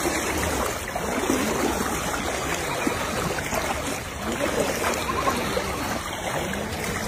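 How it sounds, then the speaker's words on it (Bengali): Fast, strong floodwater current pouring over a railway line during a flood, a dense continuous rushing and churning wash, steady and close with no voices. "পানির অনেক স্রোত, অনেক স্পিড,"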